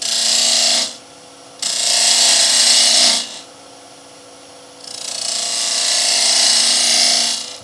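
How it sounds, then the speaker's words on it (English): A gouge cuts a chamfer on a vase turning on a wood lathe, giving three loud, hissing cutting passes with short gaps between them and the lathe's steady hum continuing underneath. "I like to put a nice little chamfer on here"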